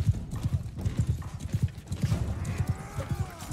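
Cavalry horses galloping in the Bannerlord video game, quick rhythmic hoofbeats pounding close and steady across the whole stretch, with a faint whinny amid the clatter.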